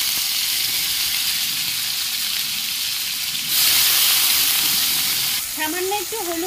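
Bitter gourd and potato fry in hot oil in a wok, giving a steady, loud sizzle that grows brighter and fiercer midway, with a voice briefly breaking in near the end.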